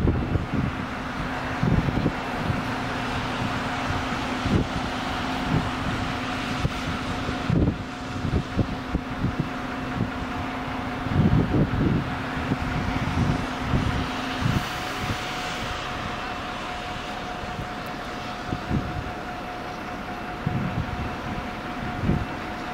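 A Nordjyske Jernbaner passenger train runs past at a station, a long steady rumble with a faint tonal hum, rhythmic wheel knocks and wind buffeting on the microphone, with no talking.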